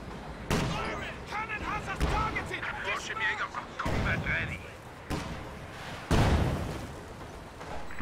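Video game battle with MG34 machine guns and artillery: repeated sharp booms and bursts of gunfire, some near and loud, some further off, under continuous voice commentary.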